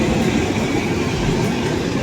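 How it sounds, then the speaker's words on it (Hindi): A Soviet-made passenger train in Uzbekistan rumbles past at a station, a steady low rolling roar with faint wheel clatter. "ये आ गई अपनी ट्रेन, उज़्बेकिस्तान लिखा है इस पर"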